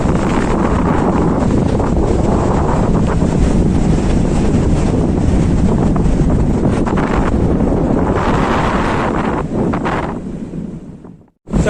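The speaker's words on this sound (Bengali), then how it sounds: "সমুদ্রের হাওয়া খাচ্ছি ভোরবেলা" Strong sea wind buffets the microphone on Mandarmani beach at dawn, a loud continuous roar with surf rumbling underneath, easing briefly near the end.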